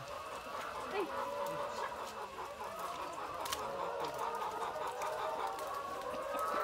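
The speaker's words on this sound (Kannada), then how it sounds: "ಇಲ್ಲಿ ಯಾವುದೋ ನಾಟಿ ಕೋಳಿಗಳಿದೆ" Native country chickens cluck steadily at a chicken farm, a dense ongoing murmur of hen calls at moderate distance with a voice talking faintly underneath.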